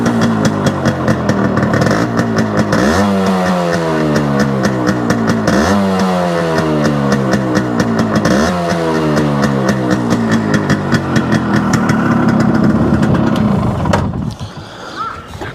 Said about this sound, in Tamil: நான் பைக்கை ஸ்டார்ட் பண்ணி காமிக்கிறேன். ஏன்னா RXனாவே கண்டிப்பாக எக்ஸாஸ்ட் நோட்டு